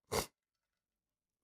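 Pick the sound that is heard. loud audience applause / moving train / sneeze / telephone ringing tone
sneeze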